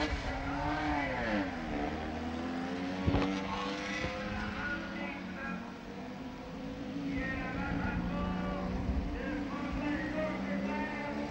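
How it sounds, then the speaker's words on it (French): Racing cars at the 1967 Albi circuit, Lotus 41C among them, driving onto the starting grid, with a continuous engine roar and revving at a distance under a commentator's talk. "Jim Clark, les pilotes quittent la bretelle, vont se ranger sur la grille de départ"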